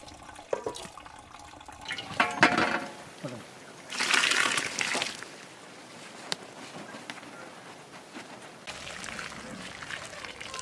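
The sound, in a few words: hot water poured into biryani pot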